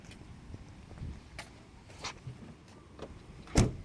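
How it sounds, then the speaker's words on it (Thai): Quiet handling noises and faint clicks, then a single firm thump of a Mercedes-Benz 300E car door shutting near the end. "นี่เสียงปิดอย่างแน่นนะครับผม"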